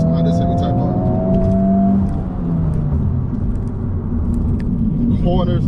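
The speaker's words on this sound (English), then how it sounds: "Essentially what it's like driving this Honda Civic Type R." A 2023 Honda Civic Type R FL5 in Boost Blue on 19-inch tires, driving with a loud, steady engine drone and road rumble heard from inside the cabin, rising briefly in pitch as it accelerates.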